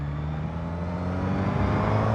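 On a 2023 Suzuki GSX-S1000 commute, a car draws near the motorcycle over a steady engine drone, with the rumble swelling slightly toward the end.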